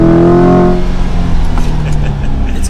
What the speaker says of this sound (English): I'm gonna get an acceleration going because it is fun